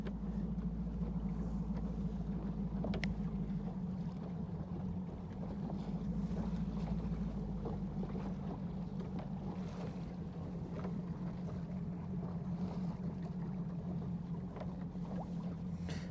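Fishing boat cruising on Lake Guntersville, its engine a steady low drone with wind rushing past the microphone, constant and unbroken throughout, with no talk.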